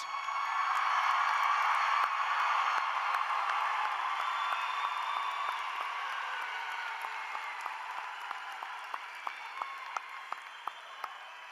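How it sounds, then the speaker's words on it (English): Sustained applause from a graduation ceremony audience for a high school's class of 2019, a broad crowd clapping that swells early then gradually thins, with a few sharper individual claps standing out near the end. "Let's give the class of 2019 a big round of applause."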